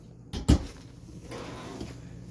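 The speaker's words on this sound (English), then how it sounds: "cabinet drawer" A cabinet drawer in a 2015 Jayco Eagle camper slides and bumps shut with a single sharp knock, followed by a faint softer thud.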